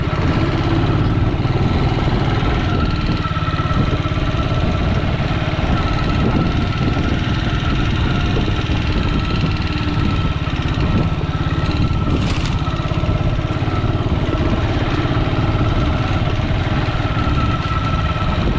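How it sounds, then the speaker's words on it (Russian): A Racer Tourist motorcycle engine drones steadily and loudly while riding a sandy track through a pine forest, the rough continuous roar filling the whole stretch without any talk. "Ну, правда, рейсер-турист идет по песку довольно хорошо."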